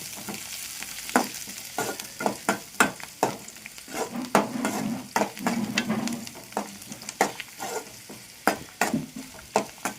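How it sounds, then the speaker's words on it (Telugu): Onions, green chilies and coriander fry in a little oil while being stirred, giving a soft sizzle under sharp, irregular scrapes and clinks of the spoon against the pan, close and fairly loud, with no talk. "ఉల్లిగడ్డ, పచ్చిమిర్చి, కొత్తిమీర వేసి ఇట్లా వేపుకోవాలి"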